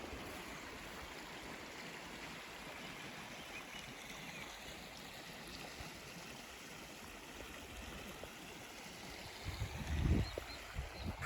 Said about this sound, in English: some running water over here.